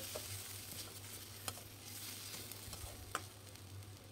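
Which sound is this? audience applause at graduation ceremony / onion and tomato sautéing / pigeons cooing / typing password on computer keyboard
onion and tomato sautéing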